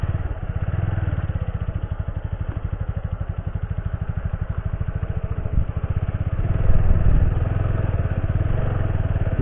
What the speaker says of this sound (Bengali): বাইক নিয়ে যাওয়া যায়।